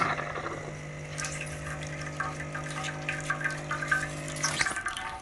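Water from a Lelit Mara X espresso machine's group head flows steadily over a coffee puck screen to rinse it, a continuous splashing stream close by with the machine's pump humming underneath.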